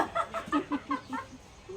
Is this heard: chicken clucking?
yes